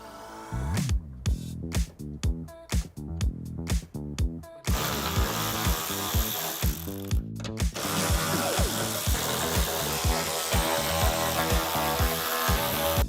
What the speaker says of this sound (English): Now remove your 8 10mm bolts on the back of the trunk.